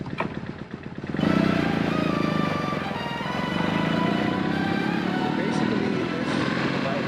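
A 1998-era BMW R1200C motorcycle engine starts and settles into a steady running rumble close by, with someone talking over it throughout.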